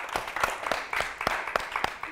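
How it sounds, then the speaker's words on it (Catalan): Studio audience applause for a contestant on a Catalan television word quiz show, moderately quiet with distinct individual claps sounding in a loose rhythm rather than a dense roar. "Un fort aplaudiment per ella."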